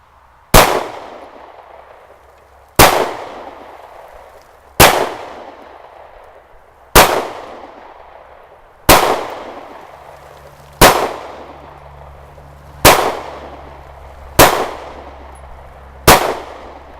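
Canik TP9SF Elite pistol fired nine times at a steady, deliberate pace roughly two seconds apart, each shot a loud, sharp crack with a short decaying tail, with no talking.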